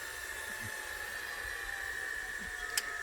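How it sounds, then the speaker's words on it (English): A small portable handheld turbo fan runs steadily with a high-pitched whine over an airy rushing hiss, close and constant, with a brief click near the end. "that's a pretty good powerful little handheld fan"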